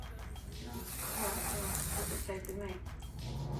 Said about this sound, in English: Also spraying the lace